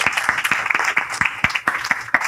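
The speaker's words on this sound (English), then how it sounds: "Can we have a big round of applause for our panelists here?" An audience claps for a film-industry panel, a dense, steady round of applause at close range with fast overlapping hand claps and no voices.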